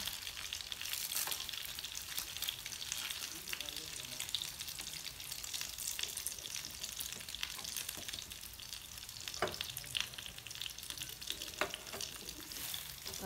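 Vietnamese chả meat cakes fry in a pan of hot oil, giving a steady, dense sizzle with faint crackles and occasional stirring scrapes, and no talking.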